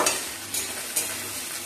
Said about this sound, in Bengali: কাঁচা লঙ্কাগুলো দিয়ে দিচ্ছি। এইভাবে একটু হালকা ভেজে নেব।